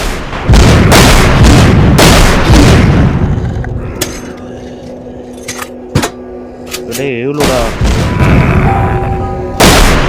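Gunfire in the video game The Walking Zombie, loud sharp booming shots in bursts and single blasts, near and punchy, with a person talking over the gameplay.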